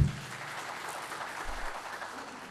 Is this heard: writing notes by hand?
no